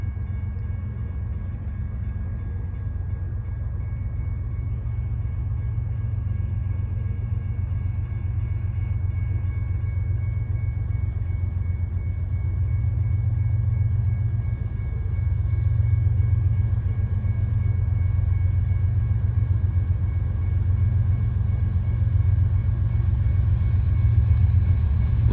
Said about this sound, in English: Looks like an intermodal train.